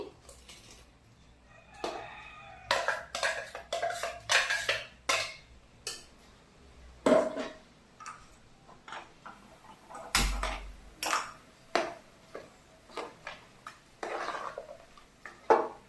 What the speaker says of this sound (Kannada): ಇದನ್ನೀಗ ನಾನು ಇದಕ್ಕೆ ಕುಕ್ಕರ್ಗೆ ಹಾಕ್ಕೊಳ್ತೀನಿ